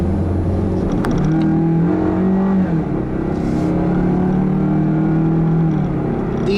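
The 2.7-liter four-cylinder engine of a 2010 Toyota Venza drones steadily while driving, a close, continuous hum with slight pitch shifts as it accelerates and settles.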